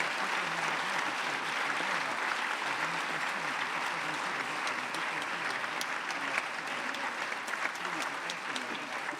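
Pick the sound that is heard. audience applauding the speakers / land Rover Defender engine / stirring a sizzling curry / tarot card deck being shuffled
audience applauding the speakers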